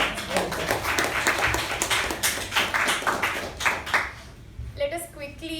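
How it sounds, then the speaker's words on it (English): Meeting participants clap for the secretary, a brisk scattered round of applause that thins out, followed by a voice starting to speak at the end. "A huge round of applause for herself."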